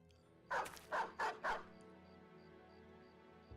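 Four quick, loud dog barks in the Battle Brothers video game, evenly spaced at the start, followed by a low steady background hum with faint periodic tones.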